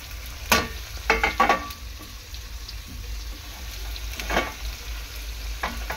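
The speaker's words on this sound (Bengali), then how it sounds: "এবার আমি নাড়াচাড়া করব। মিডিয়াম টু হাই ফ্লেমে রাখতে হবে" Capsicum and a little chopped tomato frying in a pan over medium-high flame, with a steady low sizzle and several sharp clatters of stirring, nearby and alone.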